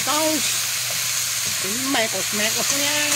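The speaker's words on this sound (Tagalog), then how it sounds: "Mekos natin yung mga gulay" Vegetables are stir-fried in a hot pan with a continuous close sizzle, while a voice talks in short bursts over the cooking.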